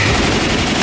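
Rapid, continuous assault rifle fire from Left 4 Dead 2, a dense unbroken burst of shots, loud and close throughout with no talking.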